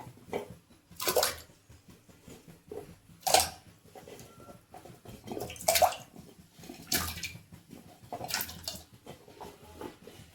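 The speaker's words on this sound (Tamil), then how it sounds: "தண்ணி ஊற்றிக்கலாம்." Water splashes and pours into a pot in several separate bursts, a few seconds apart, with quieter clinks and drips in between and birds cooing faintly.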